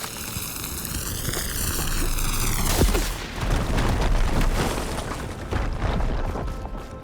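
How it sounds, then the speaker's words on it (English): A fire drain being blown up in the Horizon Forbidden West video game bursts with a loud explosion after a rising whine, leaving a sustained roaring, crackling blast that tapers off over several seconds. "Should be able to blow up that fire drain."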